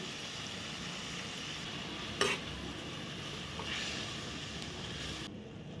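Jaggery is stirred into guava kayras in a pan over heat, a soft continuous scraping and stirring over a low sizzle, with one brief sharp clink of the spoon against the pan.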